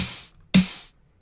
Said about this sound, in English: So the snare and the noise sound like this,